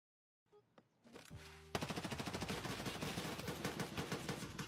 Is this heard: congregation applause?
no